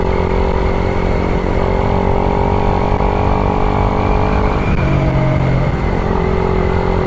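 A Raider 150fi motorcycle rides at night on a mountain road, its engine droning loud and steady close to the rider with wind noise, and the pitch dips and rises slightly as the throttle changes.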